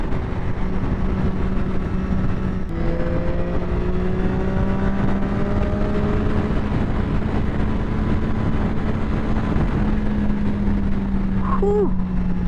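A 2012 Triumph Daytona 675 engine pulls hard while riding, its steady tone rising through the gears, with one shift break, and wind roar constantly over it.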